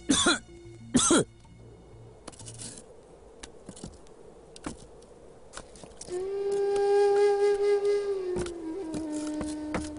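A man coughs hard in two sharp, loud bursts near the start, followed by quieter movement sounds and a steady droning tone later on.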